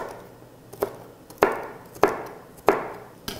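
A kitchen knife chops red chili pepper on a cutting board in four or five distinct, spaced knocks that grow sharper toward the middle, close and alone with no talking.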